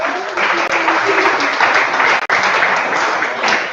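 Dense, steady applause from a seated audience at a campaign event fills the room for several seconds, with brief faint voices mixed in.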